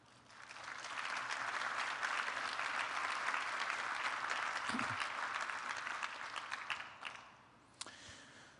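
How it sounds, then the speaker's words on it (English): An audience at an awards ceremony claps in a sustained wave of applause that swells quickly, holds for several seconds and then fades out, a dense crackle of many hands in a large room. "Please join me with your applause for this group of outstanding"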